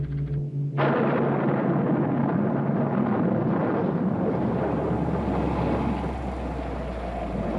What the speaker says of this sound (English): I think we are in for a storm.